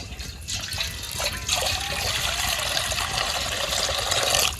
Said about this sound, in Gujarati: તો ગેસ પર પાણી વેડી દો.